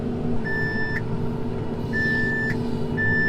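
A tractor's reversing alarm gives three evenly spaced high electronic beeps over a steady, loud engine rumble close by, with no talking.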